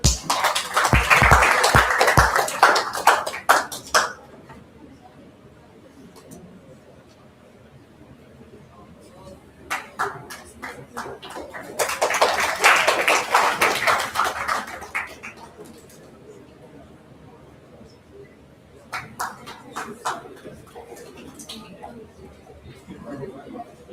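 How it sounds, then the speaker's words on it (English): Audience applause at a university orientation program felicitation ceremony, coming in three bursts of dense clapping: a loud one at the start, then two shorter, softer rounds separated by quieter gaps of room noise. "Please have a round of applause once again for Yash sir"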